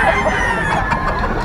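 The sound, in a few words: gamefowl rooster crowing, Kalidom X Papay Hatch cross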